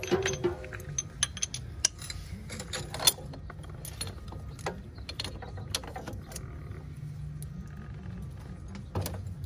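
Socket wrench and tools working on a Polaris ATV axle, heard as a series of close metallic clicks, ratcheting and clinks over a low steady background hum, with no talking.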